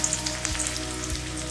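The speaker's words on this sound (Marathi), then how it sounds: "आता त्यामध्ये मी 1 चमचा चिरलेला लसूण घालणार आहे।" Chopped garlic sizzling in hot oil in a kadhai for fenugreek soup, a steady close crackle of frying with small pops throughout.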